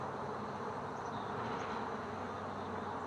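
Dense honeybee buzzing at an open hive in early spring, a steady close swarm drone filling the clip without pause and with no talk.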